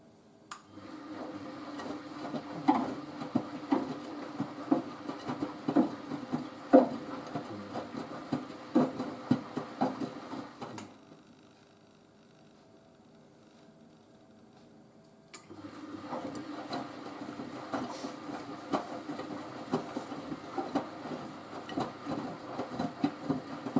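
A Miele W562 Prestige Plus washing machine drum tumbles in bursts, with rhythmic thumps and sloshing, then a quiet pause of several seconds before the tumbling resumes at a similar, moderate level.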